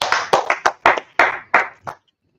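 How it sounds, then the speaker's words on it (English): A small group clapping in sharp, rhythmic bursts, about seven loud claps in under two seconds, then stopping abruptly into silence. "Clap it up for the claps"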